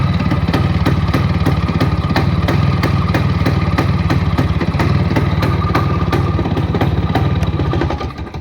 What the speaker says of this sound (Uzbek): Ko'ryapsiz gaz ko'tarishlarini aka. Mana ishlashlari aka.